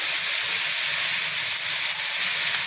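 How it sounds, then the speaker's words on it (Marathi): Chopped onion and large finely cut tomato sautéing in a pan for dry Bombay duck masala, a steady, loud hiss and sizzle running unbroken throughout with no voices. "टोमॅटो टाकून घ्यायचे मोठा टोमॅटो मी बारीक कट करून घेतलेला आहे तर हे सुद्धा आपल्याला व्यवस्थित परतून घ्यायचं"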